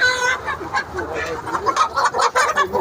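Chickens on a poultry farm cluck and squawk in short, irregular bursts during grading, loud and near, with some excited calls overlapping.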